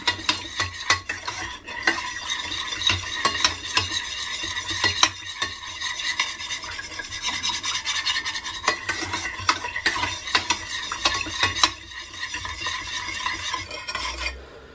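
Cucumber sunomono salad being stirred and mixed in a bowl, a continuous close run of wet rustling and quick clicking utensil strokes, busy and fairly loud throughout with no talking.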